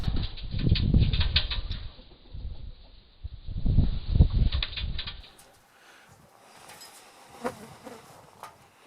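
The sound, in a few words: Indian myna flapping wings in a drop cage bird trap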